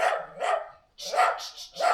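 A small dog barks in short bursts, a couple of yips close by, then a pause and two more sharp barks.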